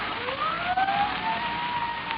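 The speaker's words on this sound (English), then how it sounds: "Sirens. Can't you hear them?" Police sirens in an old-time radio drama wail in rising, sweeping tones, growing steadily as they approach, with a continuous hum of traffic beneath and no talk over them.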